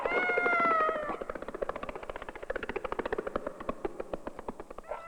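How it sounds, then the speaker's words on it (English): A cat yowls loudly for about a second, then a dog chased after it barks in a rapid, steady series of sharp barks that continue to the end, fairly close. "Think of a barking dog chasing an unfortunate cat."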